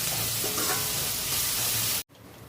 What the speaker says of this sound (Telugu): ఉప్పు ఎందుకు వేసుకుంటామంటే ఆనియన్స్ అనేవి జల్దీ ఫ్రై అవుతాయి.